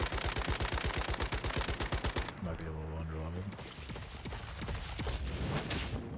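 Rapid automatic gunfire in the survival shooter Once Human, loud close bursts of shots at first, then scattered firing and game effects later, with a voice faintly under it.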